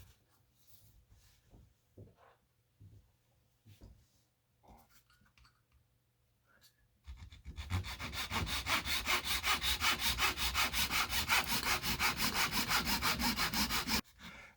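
A handsaw cutting a piece of wood in half at the bench, with a few scattered taps and handling noises first, then a loud, rapid, rasping back-and-forth stroke that runs steadily for about seven seconds and stops abruptly.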